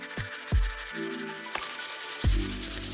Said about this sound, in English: A quick sand on the edges and the inside to tidy everything up